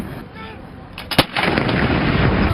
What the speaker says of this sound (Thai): ยิงปืนใหญ่เฉลิมพระเกียรติฝ่ายละ 21 นัด